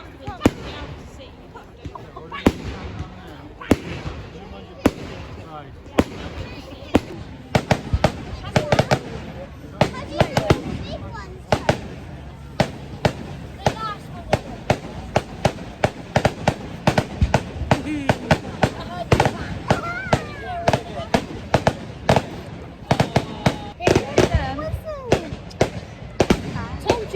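Fireworks pop and burst over a carnival throughout, with dense irregular cracks and booms, some close and loud, while people talk and call out underneath.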